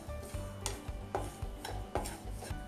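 Semolina (rava) roasting in a pan while being stirred, quiet repeated scraping strokes and light metallic taps of the spoon at a steady rhythm, close and alone without talk.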